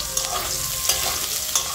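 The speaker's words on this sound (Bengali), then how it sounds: "বসিয়েছে কাঁকরোল ভাজা" Spiny gourd (kakrol) fries in a pan with a close, steady sizzle, broken by a few sharp stirring scrapes.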